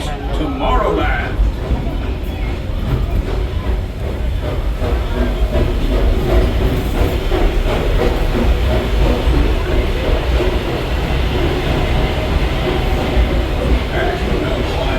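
Walt Disney World Railroad train rolls along the tracks with a loud, continuous rumble and faint rhythmic clatter of the wheels, a low steady roar filling the whole stretch with voices faintly under it.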